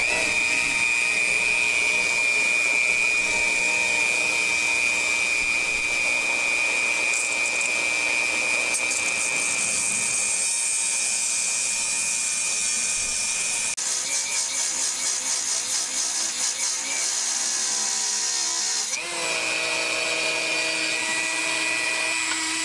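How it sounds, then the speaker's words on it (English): Dremel rotary tool cutting at bolts on a 1979 Corvette hood, a steady high-pitched whine held for over twenty seconds with brief changes in load, close and loud, no talking. "I'm using my Dremel."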